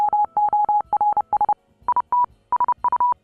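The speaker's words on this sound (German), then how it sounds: "That beeping is Morse code, and it spells out this message" Rhythmic Morse code beeping hidden in Nintendo game music, clean steady electronic tones in short and long bursts, loud and close, one pitch that shifts slightly higher partway through.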